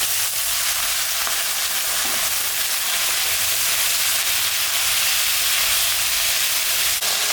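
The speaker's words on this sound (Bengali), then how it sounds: "মাছের তেলটা ভাজা হয়ে গেছে। এখন আমি লতি দিয়ে দেব।" Taro stolons (kochur loti) go into hot mustard-style fish oil in a home kitchen pan for a fish-oil curry, giving a steady, loud, continuous sizzle with light stirring throughout, no talking.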